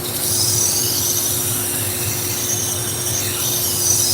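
A knife blade is worked against a 120 grit belt on a sharpening grinder, giving a steady, loud abrasive roar and hiss that holds unbroken for the whole stretch, with no talk.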